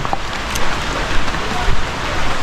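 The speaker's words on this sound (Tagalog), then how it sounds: "at sobrang lakas ng ulan sa amin dito" Heavy rain pours steadily in a rural yard where chickens are kept, a dense, loud, even hiss of falling water with no break throughout.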